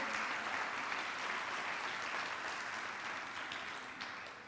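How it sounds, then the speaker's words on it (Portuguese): A church congregation applauds loudly at a youth worship gathering, dense sustained clapping that fills the space and begins tapering off toward the end. "Aplauda bem forte o nome de Jesus."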